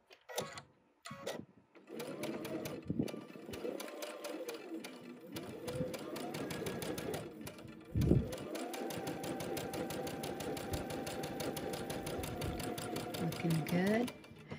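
A sewing machine stitching quilt seams for a butterfly quilt hums in long steady runs with a fast needle tick, stopping and restarting a few times, close and fairly quiet, with a voice talking alongside.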